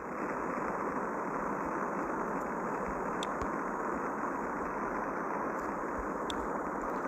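A rocket engine thrusts steadily in Spaceflight Simulator as a spacecraft heads to space, a constant broadband roar with a couple of faint clicks and no voices.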